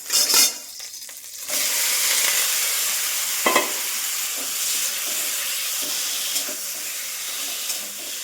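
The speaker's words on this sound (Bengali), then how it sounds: "দেখো আমি একদম কীভাবে গরম করছি, একদম হালকা তেল দিয়েছি।" Vegetables heating in a pan with a little oil give off a loud, steady broadband sizzle and hiss after a brief clatter at the start, with a few faint clicks scattered through the frying.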